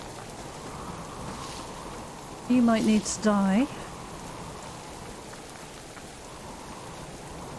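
Heavy storm rain pours steadily in the survival video game Subsistence, a dense, constant wash of downpour filling the whole scene, with a voice briefly speaking over it.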